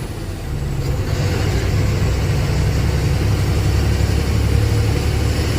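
A heavy asphalt road-laying vehicle rumbles past with a steady, loud low diesel drone that holds throughout, no voices over it.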